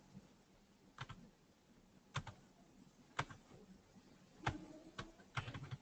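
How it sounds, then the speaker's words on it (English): Soft, quiet keystrokes on a computer keyboard come as a sparse series of separate clicks with irregular pauses, then cluster faster near the end. "You can type in these boxes."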